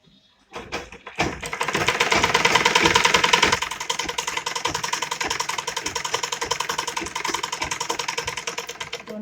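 A sewing machine stitches a small night suit, running with a fast steady mechanical chatter, loud and close, starting after a short quiet lead-in and continuing without a break.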